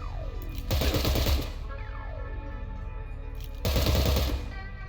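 Gunfire bursts in the tactical video game Cyber Knights: Flashpoint, two loud rapid volleys separated by a short pause, with whooshing sweeps in between.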